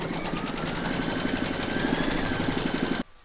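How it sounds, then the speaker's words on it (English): Embroidery machine stitching a pumpkin design in the hoop, a fast, steady mechanical whir and rapid needle clatter for about three seconds before stopping abruptly. "Pop your hook back into your machine and stitch round number 3 to secure it."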